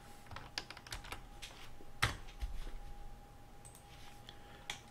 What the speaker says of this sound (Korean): 더블 클릭, 컨트롤 C, 내용 보기 눌러서 이렇게 됩니다.